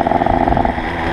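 Chappy moped fitted with a Polini 62cc kit revving nearby, a loud buzzing two-stroke note pulsing rapidly before dropping to a steadier, lower drone.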